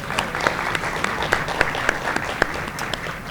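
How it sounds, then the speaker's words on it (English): Applause from an audience at a university celebration event after lunch, a steady dense clapping with scattered sharper claps, fairly close and sustained without speech over it. "Let's give them a round of applause."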